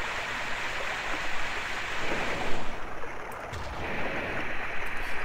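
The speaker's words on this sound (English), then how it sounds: "Sounds like somebody playing The Sound of Water running in a loop" Water rushes steadily through a sewer in an Armored Core game level, a continuous broadband wash with gentle surges and no talking.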